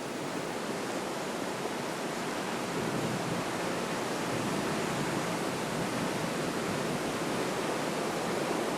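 A huge waterfall pours at the foot of a mountain camp near a fjord, making a dense, steady roar of rushing water that holds at an even level throughout, with no voices.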